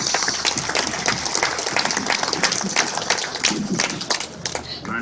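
Seminar audience at a digital expo breaks into applause, a dense, steady patter of clapping hands filling the room, close and fairly loud, with some voices mixed in beneath.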